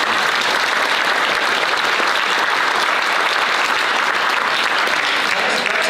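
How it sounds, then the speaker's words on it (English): A forum audience applauds its presenters with dense, sustained clapping that stays loud and even throughout, no single voice standing out. "let's give them a round of applause."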